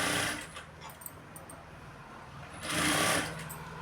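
A sewing machine stitches a blouse lining, its steady mechanical whirr running at moderate volume. The sound swells louder near the end, with a few small clicks and faint background voice.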